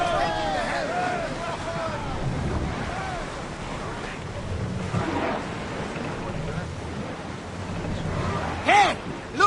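A ship sailing through open sea in Assassin's Creed Odyssey, with waves washing and wind rushing steadily and a voice calling out over the surf.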